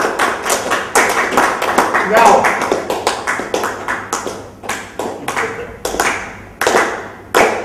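A workshop group with eyes closed claps unevenly, sharp separate claps and taps gradually drifting toward a shared rhythm, with a single brief spoken word near the start.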